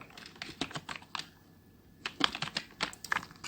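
Quick, uneven bursts of keystrokes on a computer keyboard while HTML code is typed, close and clear with short pauses between runs of keys.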